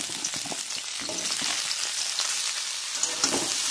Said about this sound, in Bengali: কপিগুলোকে একটু ভালো করে ভেজে নেব।